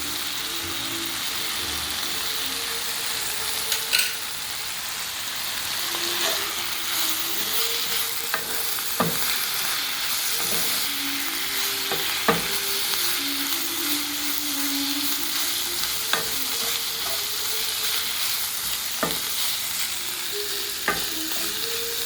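Wild chanterelle mushrooms fry in a pan with a steady close sizzle, while a utensil scrapes and stirs in irregular clicks and scrapes throughout.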